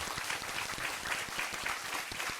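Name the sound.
audience applause at a talk concert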